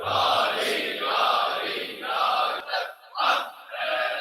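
A large crowd at a Muharram Ashura majlis shouts a religious slogan together in unison, rising in loud surges with short pauses between each burst of chanting.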